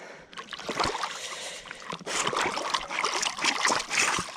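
A person wading and climbing out of lake water, with close splashes, trickling drips and sloshing throughout, growing busier in the second half.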